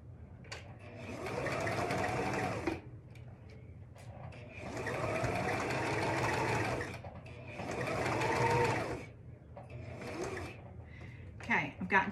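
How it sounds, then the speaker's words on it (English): A sewing machine stitches fabric for a child's hat in three steady runs of fast rhythmic whirring, separated by short pauses, close and moderately loud, with a few clicks at the end. "I'm gonna take and sew around to here and down to this pin"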